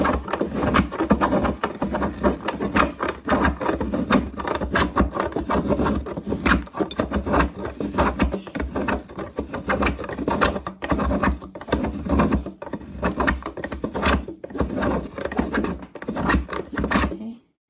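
A bar of milk or white chocolate is grated into shavings, giving a continuous rapid scraping rasp with rhythmic strokes that continue for most of the span at moderate volume.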